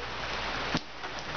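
Heavy rain pours outside in a dense, steady hiss that fills the whole short stretch evenly, with one slightly louder splash partway through and no talking.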